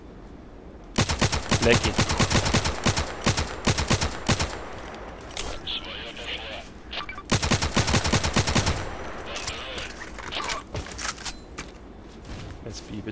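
Gunfire in Contract Wars, two long bursts of rapid automatic shots, loud and close, separated by a quieter stretch with scattered single shots; someone speaks briefly.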